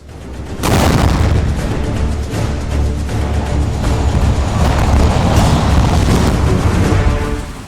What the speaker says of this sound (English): These literal bombs can be hurled many kilometers from the eruption site